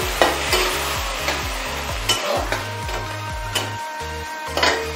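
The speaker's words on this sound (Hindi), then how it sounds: "इसमें डालेंगे कटी हुई प्याज। हल्का ब्राउन तक भून लेते हैं।" Chopped onions frying in a pan until light brown for aloo gobi, with steady close sizzling and a regular rhythm of spoon stirring and scraping strokes throughout, no voices.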